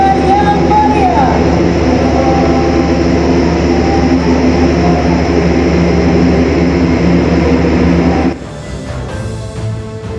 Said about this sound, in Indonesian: Pesawat angkut berat Airbus A400M disambut dengan prosesi water salute saat mendarat di pangkalan TNI Angkatan Udara Halim Perdana Kusuma